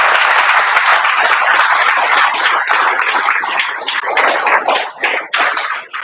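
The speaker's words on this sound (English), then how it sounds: "A big round of applause for HIMT" A college audience at HIMT College bursts into loud, dense applause, a thick sustained roar of many hands clapping up close that thins with a couple of dips near the end.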